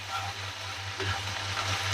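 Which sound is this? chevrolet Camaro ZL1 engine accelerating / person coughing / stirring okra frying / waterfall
stirring okra frying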